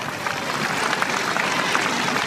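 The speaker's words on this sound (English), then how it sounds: "He'll get warm applause here in Rotterdam." Warm applause rolls from a cricket crowd in Rotterdam during a World Cup match between Pakistan and the Netherlands, a dense, steady clatter of clapping from a large stadium audience.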